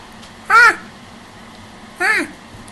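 A young child imitates a monkey with two short, high, wavering hooting calls spaced about a second and a half apart, close to the listener.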